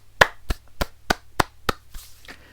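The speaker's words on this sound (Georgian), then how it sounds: "არ მაქვს უფლება ამ სიბრძნეს ტაში არ დაუკრა." Slow, deliberate hand clapping by a single person, about seven crisp, close claps at an even rhythm, the last ones softer, with no talk over them.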